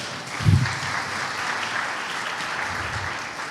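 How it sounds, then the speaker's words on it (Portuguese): A church congregation applauds during a Sunday celebration service, a steady wash of clapping that starts with a brief louder swell and carries on evenly to the end. "Vamos aplaudir a Jesus aqui pela irmã Wanda."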